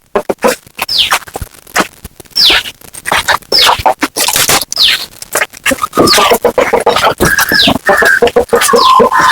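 Peruvedai chickens on a breeding farm, with repeated loud scratching and scraping close by and clucks and bird calls running through, growing busier toward the end.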